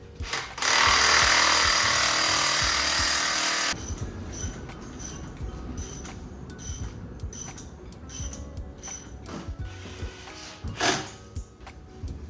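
A power tool drives bolts while a car's suspension is fitted during a car build: a loud continuous whir for several seconds, then quieter clanks and mechanical knocks.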